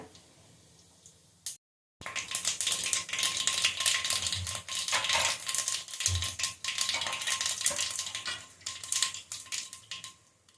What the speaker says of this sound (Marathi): मोहरीला छान तडतडू देऊया